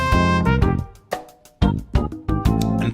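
Synth horn patch played on a keyboard in the normal articulation at its lowest C, several loud brassy notes and short phrases with quick attacks and decays, no voices.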